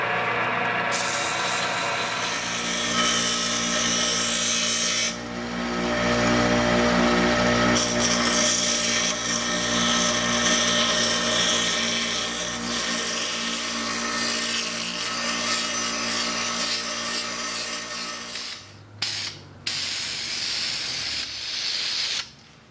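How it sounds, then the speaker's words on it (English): A power sanding tool works steadily on a dyed, stabilized corn cob blank, a loud sustained whirring hiss with a shift in pitch partway through, then stopping and restarting briefly near the end. "a light little sanding."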